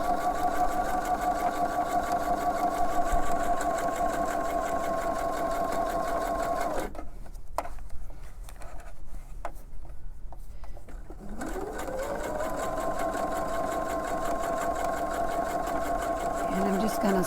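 A sewing machine fitted with a double needle hems knit fabric with a fast, even mechanical whir. It stops for a few seconds, then starts again, while someone talks over it.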